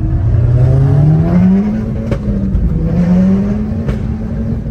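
A car engine roars loudly and steadily on a Paris street, its pitch climbing through gears as it accelerates hard, with brief shifts between pulls.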